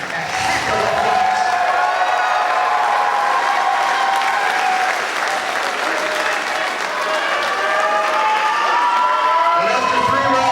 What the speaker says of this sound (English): Ladies and gentlemen, let's give one big round of applause.